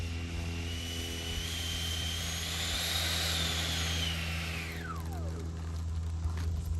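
An Xfly B-1B Lancer RC jet with twin 70mm electric ducted fans, a loud whining whoosh as it passes overhead, pitch rising then sweeping sharply down as it flies away, no speech.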